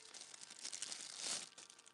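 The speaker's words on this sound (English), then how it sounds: "Comes in a little plastic bag." Small plastic bag handled at a live auction, crinkling steadily for two seconds with a louder burst of crackle partway through, close and without speech.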